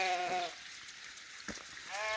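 Goats and sheep in a flock on the move bleat outdoors, one clear drawn-out call at the start and another at the end, with quieter rustling and shuffling between them.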